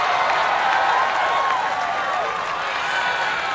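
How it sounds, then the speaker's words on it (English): Arena crowd applauding and cheering an obstacle-course competitor at an American Ninja Warrior qualifier in Orlando, a steady roar of clapping and voices that fills the whole stretch at even loudness. "The crowd giving him a hand"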